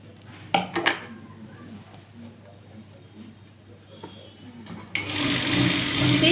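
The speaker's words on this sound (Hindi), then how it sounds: "यहाँ से दोनों पल्लों को सही से रखते हुए पूरा स्टिच कर लीजिए।" A sewing machine starts up and stitches the panels of a Patiyala salwar, running steadily for the last second or so after quiet handling and a few knocks.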